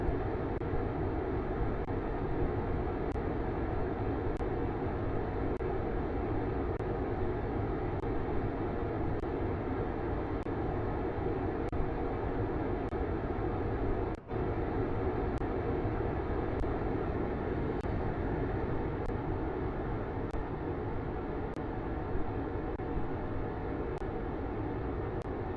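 A rocket engine in Kerbal Space Program roars as a steady, broadband rumble that holds constant for the whole stretch, with faint periodic clicks and one brief dropout midway.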